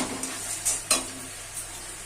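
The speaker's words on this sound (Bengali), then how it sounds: "এগুলো দিয়ে ভালো করে মশলাটা আর একটু কষিয়ে নিতে হবে।" A pan of masala being sautéed with cumin and coriander powder for a katla fish curry, giving a steady low sizzle under soft scraping and stirring, with a couple of brief spoon-against-pan clinks near the start.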